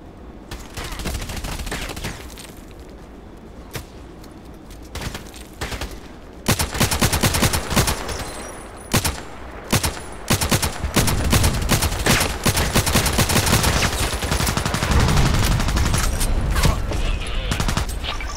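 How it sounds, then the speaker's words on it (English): RPK light machine gun fire in the online shooter Contract Wars crackles in dense, rapid bursts, starting sparse then swelling into loud sustained volleys with gaps between strings of shots. "How can he shoot me with the RPK?"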